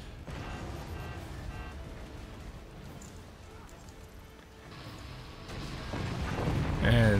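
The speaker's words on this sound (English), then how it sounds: "Trying to use the cannon as defense." Booming cannon fire and crashing structures from the physics strategy game Forts, a dense continuous rumble of battle with impacts that swell louder toward the end.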